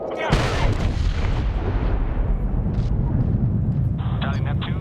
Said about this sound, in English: Missile off the rail.